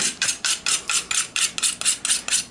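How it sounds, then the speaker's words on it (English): A dull knife draws repeatedly across a knife sharpener under heavy pressure, making about a dozen evenly spaced, bright rasping strokes, loud and close with no talk. "I am pressing harder than the normal sharpen because when the knife is dull, I speed it up by pressing just a little harder."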